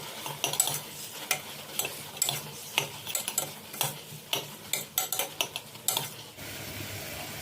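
Finely chopped meal maker (soy chunks) is stirred into a simmering pan for foxtail millet veg biryani, with a quick series of close spoon-on-pan scrapes and knocks over a soft background sizzle, then a steady hiss at the end.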